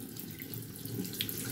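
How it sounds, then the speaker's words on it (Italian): Tap water runs steadily into a sink while hair is being wet, a constant close splashing hiss with no talk over it. "apriamo l'acqua e intanto"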